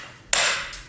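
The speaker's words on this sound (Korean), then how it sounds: "며칠 밤낮 정질 소리가 끊이지 않더니" A hammer strikes a chisel while carving stone into a Buddha statue by traditional hand methods, one sharp bright metallic clink that rings briefly and fades, close and alone.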